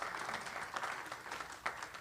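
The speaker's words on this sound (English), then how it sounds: "Can we have a round of applause for the candidates?" Faint applause for the candidates at a primary election sheriff's forum, a brief, quiet patter of crowd clapping heard from a distance.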